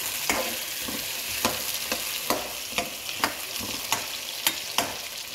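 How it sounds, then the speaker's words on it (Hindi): Potato chips frying in ghee in an iron wok, a steady close sizzle with rhythmic scrapes and stirs roughly every half second, no voices. "हमारी चिप्स जो है लोहांडे के अंदर चली जा चुकी है।"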